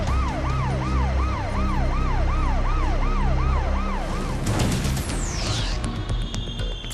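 Loud wailing ambulance sirens at an emergency scene in Los Angeles, a rapid repeating rise-and-fall wail close by, then shifting to a sweeping yelp with vehicle noise.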